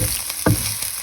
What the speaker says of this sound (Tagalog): Gisa muna natin ang luya para lumabas ang bango.